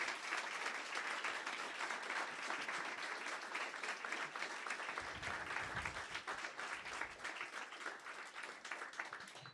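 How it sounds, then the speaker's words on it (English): A conference audience bursts into steady applause for a speaker, dense clapping from many hands that holds for nearly ten seconds, fairly distant and soft. "but if everyone could give Francisco Marquez a huge round of applause and thank you."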